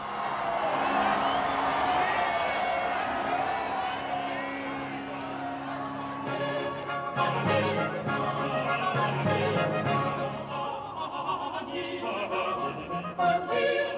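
A crowd at a royal wedding cheers and whoops as the bride appears, a broad roar of voices rising and surging with some clapping, loud and sustained throughout.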